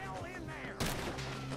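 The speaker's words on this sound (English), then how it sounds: "People are shooting at me." Gunshots in the Red Dead Redemption video game, a burst of sharp loud cracks with a heavy blast near the middle, ringing over a bed of game noise and background voices.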